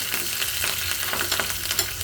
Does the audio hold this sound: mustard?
yes